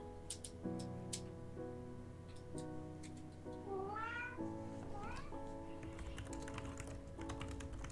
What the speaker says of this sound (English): You don't expect to find cats in places like this